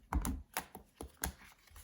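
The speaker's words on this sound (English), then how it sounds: "Okay, so let's shuffle a little bit more." Oracle cards being shuffled by hand, a quick run of soft, close tapping and riffling bursts at an irregular rhythm, fairly faint, with no talking.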